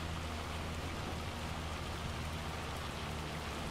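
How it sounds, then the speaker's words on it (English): Steady rain falls in the Farming Simulator video game during a corn harvest, a dense, continuous hiss of drops on surfaces that holds even and loud throughout with no talk over it. "Oh, starting to rain."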